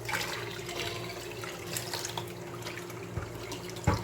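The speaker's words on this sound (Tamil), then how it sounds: "ஸோ இப்போ நான் அரிசி களைஞ்ச தண்ணி இதில் விடுறேன்." Water left from washing rice poured steadily into a soapstone cooking pot, a soft continuous splashing trickle, fairly faint and close, with no talking.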